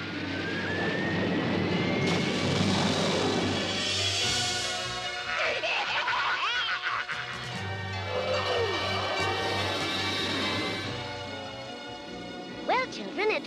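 In a Bravestarr cartoon, a bus jet's aircraft engine roars steadily in flight, with a long whining tone and fluctuating hum that continues under voices.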